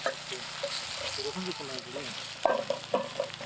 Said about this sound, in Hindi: तेल और प्याज और मिर्चा को हमने भूनना शुरू कर दिया है